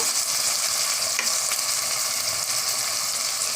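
Tomatoes hit a pan of frying ginger, garlic and onion for bread brinji rice, giving a loud, steady close sizzle with a few stirring scrapes and no voices.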